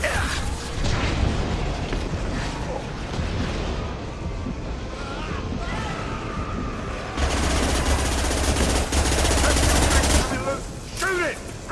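Continuous gunfire with heavier booming blasts, including a concussive shot, in the sci-fi shooter Mass Effect 2, dense and loud throughout and swelling in the later seconds; combat voices speak in between.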